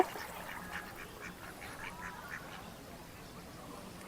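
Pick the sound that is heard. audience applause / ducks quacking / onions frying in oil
ducks quacking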